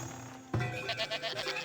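Goats bleating in the Farthest Frontier village-building game, a series of short repeated bleats after a sudden onset, fairly close and clear over a steady ambient background.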